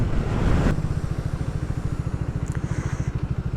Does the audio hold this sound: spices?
no